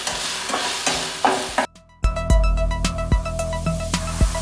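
Potato frying in a pan for an omelette, stirred with a utensil, giving irregular scraping and clattering knocks over a sizzle, with a brief gap of near silence partway through.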